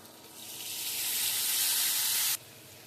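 A splash of water on frying spices in a pan, as for a Bengali fish curry, sets off a loud hissing sizzle that swells over a second, holds, then cuts sharply back to a quieter fry.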